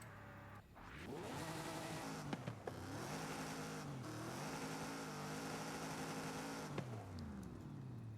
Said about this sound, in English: The 7-point-liter V12 is from the Aston Martin Vulcan.